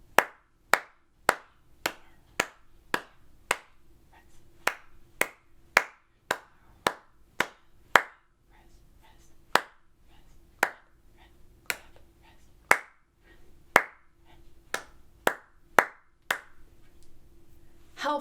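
Sharp hand claps keep a steady rhythmic beat, roughly two per second, crisp and close, with brief gaps between phrases and a faint sustained tone underneath.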